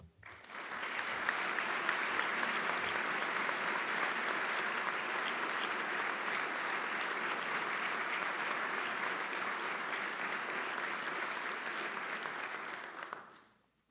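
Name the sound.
applause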